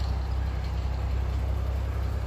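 A Toyota Crown JZS171 with a 1JZ-GTE VVT-i turbo engine idles quietly, giving a steady low hum that stays even throughout with no revving.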